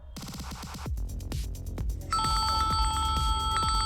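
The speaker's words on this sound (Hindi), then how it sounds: "फिर से चिंटू का फोन?" A phone ringtone plays loudly, first as rapid plucked notes, then a sustained bright electronic chime over rhythmic thumps.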